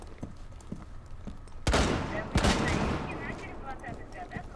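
Gunfire in Rainbow Six Siege ranked play: a sudden loud volley erupts partway through, with a second burst soon after, over steady background game noise.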